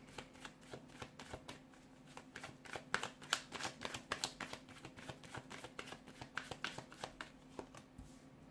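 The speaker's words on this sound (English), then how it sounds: "give the cards a shuffle, and let's begin" Tarot cards are riffled and shuffled repeatedly in quick rustling bursts, a soft snappy flutter close by, continuing for several seconds against a faint steady hum.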